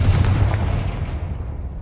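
A Confringo spell explosion in Hogwarts Legacy, heard as a heavy close boom that rumbles and slowly fades.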